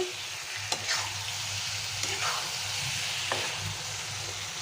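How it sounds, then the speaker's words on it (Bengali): Chunks of meat stir-fried into kosha in a pan with no water added, giving a steady close sizzle and hiss throughout, broken by a few scraping stirs of the spatula. "না জলে এই মাংস কষাটা বানাচ্ছি, জল দিব না এগুলাতে।"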